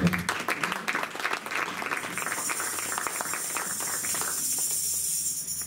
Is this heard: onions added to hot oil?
no